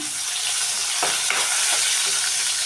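Onion frying in hot oil with spices for a pepper mutton fry, giving a loud, steady close sizzle with a few faint stirring scrapes and no voices.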